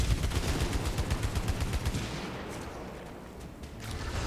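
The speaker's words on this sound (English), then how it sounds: "Like this one, which is basically an assault rifle." Rapid automatic assault rifle fire in the sci-fi shooter Returnal, a dense rattling stream of loud shots for about two seconds, then fading into quieter scattered impacts and ambient game sound.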